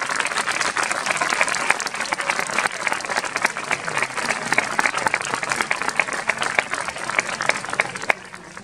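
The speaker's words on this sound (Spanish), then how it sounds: "Vamos a ver ese aplauso para Vicky" An audience at a village festival in Sádaba gives a pianist loud, sustained applause. The close, crackling clapping carries on steadily for several seconds and then begins to thin out at the end.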